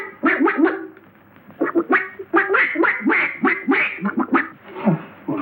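A man imitates a duck, giving a close, loud run of nasal quacks in irregular bursts, with short pauses between groups.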